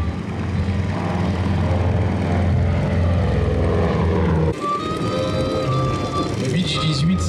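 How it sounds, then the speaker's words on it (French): A silver Beech 18 C-45 twin propeller aircraft flies at the La Ferté-Alais air show: a loud, droning engine roar that shifts in tone partway through, with a commentator talking over it. "Le Beech 18 C-45 qui nous est présenté"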